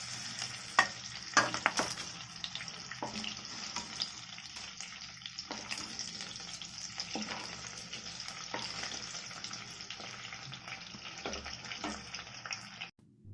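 Ingredients such as sesame seeds fried in oil in a kadai while being stirred, with a steady crackling sizzle and scraping strokes of a spoon against the pan, close and continuous.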